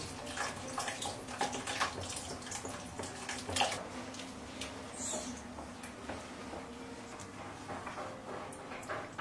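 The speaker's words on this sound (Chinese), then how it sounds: "给里面再加些水" Water is poured into flour in a mixing bowl to make a thin batter for vegetable pockets in a country kitchen, a soft, steady trickle and splash that runs on quietly without voices.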